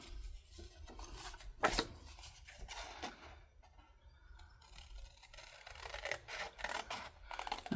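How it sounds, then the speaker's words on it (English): Scissors cut paper along a line for an envelope junk journal, making faint, close snips and scratchy rustles in irregular bursts with short pauses between them. "I'm going to take it out and use my scissors and cut it."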